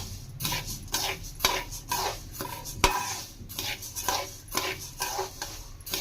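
Rice roasted and stirred in a kadai, a steady run of dry scraping and rustling strokes with metallic clinks of the spoon on the pan, close by and moderately loud.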